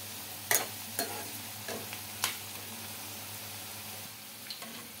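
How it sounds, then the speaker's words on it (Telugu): Bitter gourd pieces frying in oil, with a quiet, even sizzle and several distinct clacks and scrapes of a spatula stirring the pan, close by and soft. "బాగా గోల్డెన్ కలర్ వచ్చే వరకు ఫ్రై చేసుకోవాలండి ఈ కాకరకాయ ముక్కల్ని."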